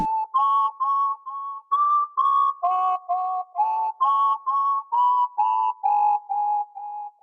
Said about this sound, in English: here's the melody I laid down with the whistle.